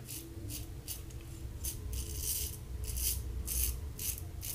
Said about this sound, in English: just razor's really loud